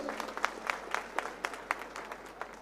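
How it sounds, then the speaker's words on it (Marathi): An audience at a political speech claps for Hanuman Sheth Pingle, a soft, somewhat distant burst of rhythmic applause with individual hand claps standing out, heard without any voices. "एकदा जोरदार टाळ्या होऊन जाऊ दे हनुमान शेठसाठी"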